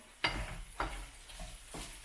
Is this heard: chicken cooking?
yes